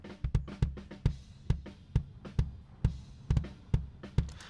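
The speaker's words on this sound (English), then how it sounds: "which is just a microphone inside the bass drum." Bass drum picked up by a microphone placed inside the drum: a steady run of punchy, close, deep kicks with sharp attacks, alongside fainter cymbal and snare bleed.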